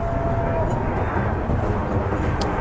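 An airplane passes overhead during a Christmas boat parade, a steady broad rumble that fills the whole stretch with soft background voices beneath it.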